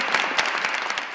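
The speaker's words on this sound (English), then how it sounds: "We can give an applause for this." Short, brisk audience applause at a community gathering, a dense patter of claps from a modest crowd.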